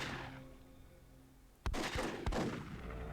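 In the video game Myth II Soulblighter, sharp bursts of a grenade explosion and gunfire strike twice in quick succession after a quiet lead-in, loud and punchy against a low ambient backdrop.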